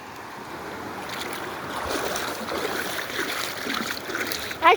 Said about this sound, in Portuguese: Eu estou em ação nessa linda cachoeira.